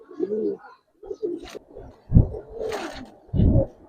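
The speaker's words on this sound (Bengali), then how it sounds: "এগুলো আমাদের নারায়ণগঞ্জের ঐতিহ্য লাপ্তা ক্যাটাগরির কবুতর" Giribaz pigeons of the Laqqa type at a loft in Narayanganj give low, throaty coos in several separate bursts, close and fairly loud, with brief pauses and small rustles between them.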